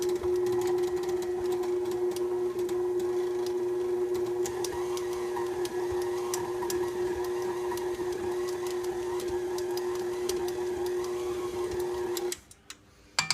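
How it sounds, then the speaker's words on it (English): An electric mixer blends gluten-free walnut butter raisin cookie dough with a steady, close mechanical whir and hum that runs unbroken for about twelve seconds, then shuts off. "Drop it back down, mix it just a little bit more."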